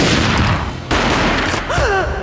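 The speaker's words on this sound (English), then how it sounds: "A gunshot boomed and she fell down in slow motion" Gunfire from the Max Payne graphic novel: loud, booming shots with dense echoing blasts, one at the start and another about a second later, then a short vocal cry near the end.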